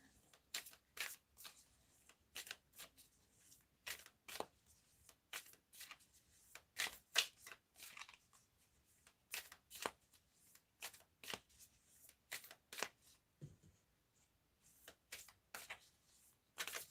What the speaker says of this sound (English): Shuffling the cards a bit to see.